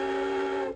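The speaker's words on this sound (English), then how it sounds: "let's blow the whistle." A work whistle signaling quitting time gives one short, steady, loud tonal blast lasting under a second before cutting off.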